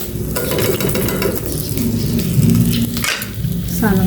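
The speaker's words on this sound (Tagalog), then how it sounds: "Talong naman ang piniprito ko." Steady sizzling of eggplant frying in a pan with clinks of utensils, loud and close, a voice murmuring faintly underneath.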